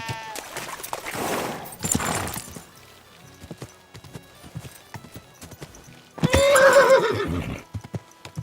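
A horse in Kingdom Come Deliverance II whinnies twice, close and loud, with a longer neigh near the end and scattered hoof clops in the quiet between.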